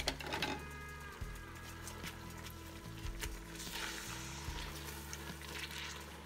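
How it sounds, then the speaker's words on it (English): Ground spices including black pepper, cardamom, cinnamon, cloves and salt sizzle in a pan for Saudi kabsa, with a steady frying hiss and some clinking and scraping from stirring, close and moderately loud with no talking. "I'm gonna give that a stir."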